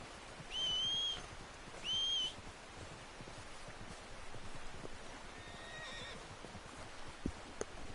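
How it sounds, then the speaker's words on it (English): Two short whinnying neighs from a horse in the Red Dead Redemption 2 game world, each lasting about half a second, followed by soft hoof clip-clop and rustling as the animal draws nearer, all fairly quiet with no talk. "My horse is coming towards me,"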